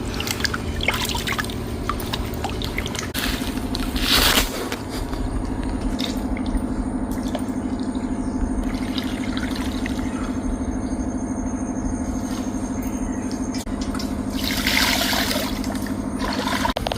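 Steady splashing water pours continuously over fish being rinsed, with occasional louder splashes and clinks, close by.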